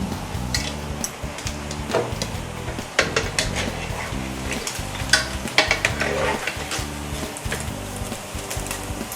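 Pork belly deep-frying in hot oil in a wok, its skin puffing up, giving a steady dense sizzle with occasional metallic stirring clinks close by.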